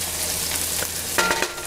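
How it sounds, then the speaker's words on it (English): Food sizzles and crackles in a hot frying pan as sauce goes in for spaghetti alla puttanesca, a steady close hiss with a few stirring scrapes toward the end. "Another good sizzle."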